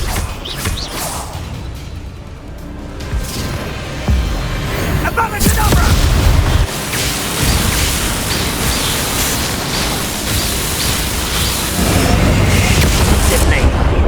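Bombarda and Confringo explosion spells in a video game: repeated heavy booms and whooshing blasts swell and roll over about fourteen seconds, loud and dense, with game voices talking partway through.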